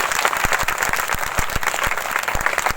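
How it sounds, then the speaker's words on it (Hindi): A congregation claps for God during a Hindi-language Christian worship service, with loud, dense, steady applause filling the whole stretch and no voices heard. "सब लोग ताली बजाएंगे परमेश्वर के लिए।"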